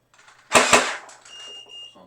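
Two sharp, loud shots in quick succession from an X-Shot Gel Gatling gel blaster upgraded to about 120 FPS, followed by a faint lingering mechanical whir and a thin high tone, with no talking.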